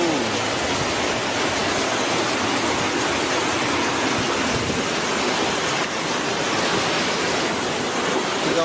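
Loud, steady roar of the flooded Cisolok River in Sukabumi, West Java, a dense continuous wash of churning floodwater that fills the whole clip without a break.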